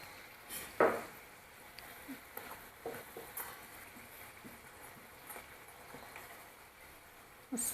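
Spicy puris deep-frying in hot oil over a raised gas flame, a soft continuous bubbling sizzle with occasional clinks and scrapes of a utensil against the pan, close by and with no talking.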